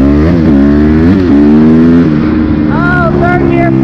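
A motorcycle engine revs hard through second and into third gear, loud and close, its pitch climbing, dropping at each shift and climbing again, with a voice speaking over it near the end.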